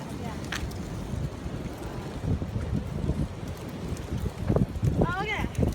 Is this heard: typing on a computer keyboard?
no